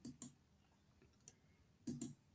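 Computer mouse clicks while paying on a web payment page: sharp close taps, a quick double click, a single click, then another double click, crisp against near silence.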